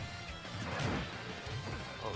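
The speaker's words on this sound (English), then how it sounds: "Oh, he's still smashing that hammer." A hammer item smashes in a Super Smash Bros. Ultimate tournament match, with dense crashing game impacts and effects over a steady, busy mix of crowd and commentary noise.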